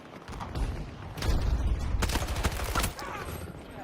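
Gunfire in the Battlefield 2042 video game, with a cluster of sharp shots and impacts over a dense rumbling battle background, heard close and fairly loud.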